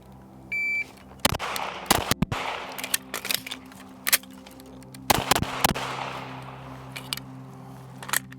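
A 9mm pistol-caliber carbine built on a Sig P320 conversion fires low-recoil, low-velocity rounds during a timed shooting drill, with a start beep followed by a string of sharp, loud shots at uneven intervals.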